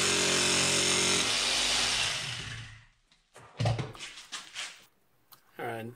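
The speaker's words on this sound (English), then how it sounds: "I'll cut this piece out and then kind of fine-tune it to fit in that skull cavity." A power saw cuts through a piece of 3/8-inch plywood, a loud steady whine lasting about two seconds before it stops. Scattered knocks and handling noises follow, close by.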